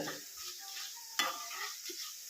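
Ginger frying in oil as a spoon stirs it, a faint, soft sizzle with a few scraping strokes and one sharp clink of metal against the pan, quiet and close, no speech.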